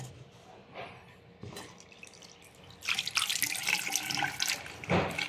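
After a quiet start with a few faint drips, water pours steadily and splashes onto a waterproof motorcycle jacket, a loud, continuous gush that runs to the end.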